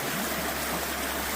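Water in a creek running high after heavy flow, a steady broadband rush that stays loud and close for the whole moment.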